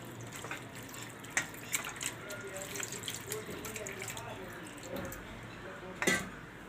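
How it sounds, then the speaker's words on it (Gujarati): Chhena, the curdled milk for rasgulla, is rinsed under running tap water in a kitchen sink, with a steady faucet stream, soft splashing and occasional clinks of a vessel, all at close range. "તો હજી એકવાર આપણે આને ધોઈ લઈશું સરસથી."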